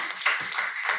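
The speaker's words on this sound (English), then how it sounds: "we have to please applaud them," An audience at a conference on non-capitalist mixed economies, held in a hotel, breaks into a short burst of dense, fairly loud applause that stays steady for about a second.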